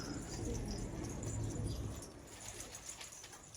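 Old-breed purple Istanbul pigeons make soft, low, rumbling coos close by, with some wing flutter against a steady noisy background.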